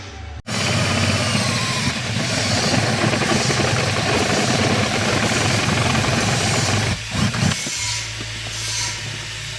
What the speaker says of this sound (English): pilot a hole that with a smaller drill